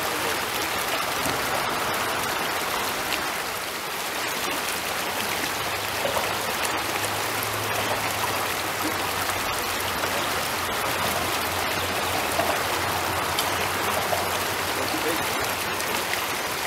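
Fast-flowing river water rushing steadily through a shallow riffle on the Eno River, a continuous broadband wash with no breaks and no voices.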